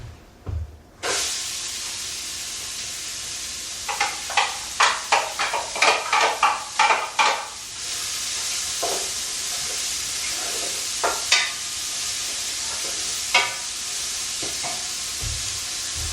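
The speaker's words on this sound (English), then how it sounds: "So now I'm just gonna go ahead and dump my onions in." Onions dumped into a pot of dark toasted cumin seeds for family chili hit the oil with a loud, steady sizzle, while a spoon scrapes and stirs in quick bursts through the middle.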